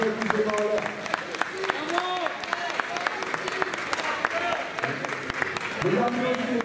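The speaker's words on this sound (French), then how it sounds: "Applaudissez-vous." A live audience claps during a festive gathering, steady applause running throughout with a dense crowd texture, while voices and cheers rise through it and someone talks over the noise.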